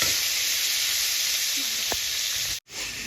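Chicken pieces sizzling in a hot pan, a steady close hiss of frying that runs throughout with a faint clink, then cuts out briefly near the end before resuming.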